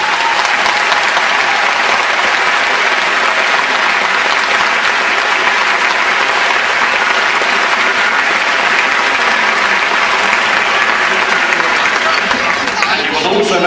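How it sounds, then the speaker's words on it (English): A large concert hall audience applauds school choirs, sustained loud, even clapping from many hands that carries on without a break and thins slightly at the end. "Would you have a round of applause as they stand up for choirs from all of our schools who have come along today?"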